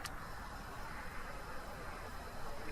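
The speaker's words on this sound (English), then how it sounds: "Well, there's that loud traffic again." Road traffic in the Sacramento Mountains of New Mexico makes a faint, steady engine rumble and tire hiss from a distance, with no clear individual passes.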